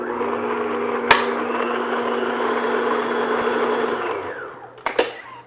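An electric mixer beats an egg into snickerdoodle cookie dough with a steady, loud whirring drone for about four seconds, then winds down, and a couple of sharp clicks follow.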